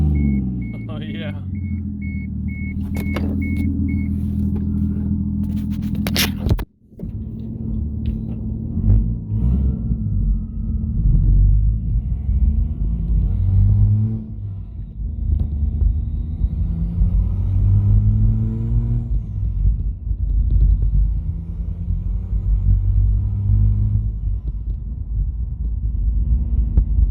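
A 1988 Toyota Supra engine rumbles steadily at low pitch while driving, with a brief sharp pop and dropout partway through, then the drone resumes.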